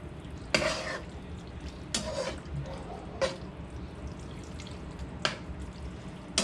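A few short scraping stirs of pasta in thick, wet sauce in a pot, spaced a second or so apart over a low simmering background.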